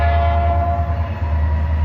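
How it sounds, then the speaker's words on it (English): Train passing close by a parked van, a loud steady low rumble with sustained horn-like tones held throughout, no voices. "The train's kind of killing it"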